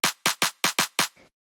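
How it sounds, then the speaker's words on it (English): A raw, punchy, simple clap sample fires six times in a quick uneven pattern, loud and dry with short bright tails, followed by a faint softer hit before silence; part of a lo-fi house drum line. "So you can hear it's just like a pretty punchy, kind of simple clap sound."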